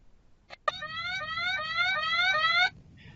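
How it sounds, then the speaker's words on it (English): Drowsiness detection software sounds an alert of a rapid, clear electronic beeping trill lasting about two seconds, heard faintly as if played through a computer after a brief tap, over a quiet background. "it's going to show sleeping on the screen, and it's going to also beep"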